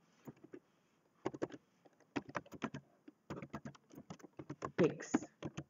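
Keys tapped on a computer keyboard while a folder name is typed, irregular quick clicks in small clusters, close and fairly quiet, with a soft voice faintly under the taps.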